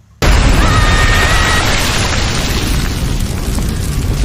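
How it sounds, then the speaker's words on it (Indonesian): A huge explosion erupts when a leaking fuel-carrying train ignites in the film RRR: a sudden loud boom that swells into a sustained roaring blast and slowly fades. "ada kereta pembawa bahan bakar mengalami kebocoran sehingga membuat api menyala dan menimbulkan ledakan yang besar"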